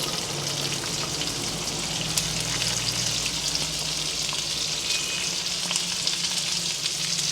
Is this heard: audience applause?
no